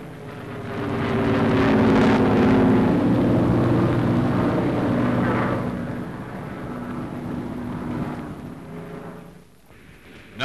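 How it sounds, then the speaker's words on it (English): Military aircraft take off from an aircraft carrier during the wartime attack on Madagascar, a loud, broad engine roar building and holding for several seconds before gradually fading away. "aircraft took off from the carrier"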